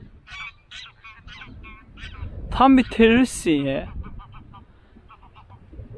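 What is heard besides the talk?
ducks calling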